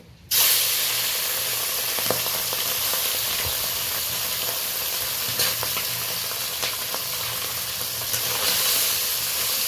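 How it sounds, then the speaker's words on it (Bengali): Small puti fish frying in hot oil in a kadai, a loud continuous sizzle that starts abruptly and holds steady, with occasional faint pops and stirring clicks. "এবার আমি অল্প অল্প করে এই পুঁটি মাছগুলো ভেজে নেব"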